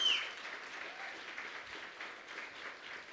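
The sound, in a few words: round of applause for Adam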